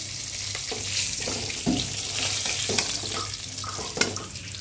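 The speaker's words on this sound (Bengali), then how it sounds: "মাছটা ভালো মতন ভাজা দিবেন" Rohu fish fries in hot oil, a constant close sizzle punctuated by scraping stirs and spatter pops, with no talking.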